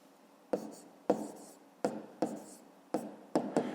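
Handwriting on paper as a subtraction result is written down during a fifth-grade math exercise: a series of seven close, distinct taps and short scratchy pen strokes at an uneven rhythm, fairly quiet with no voice.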